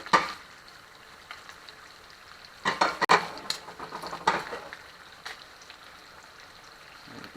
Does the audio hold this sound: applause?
no